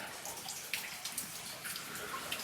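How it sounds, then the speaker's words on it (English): Water falls and splashes steadily inside an old mine, heard as a soft, continuous spatter with scattered drips, fairly faint and with no one talking. "I hear some falling water"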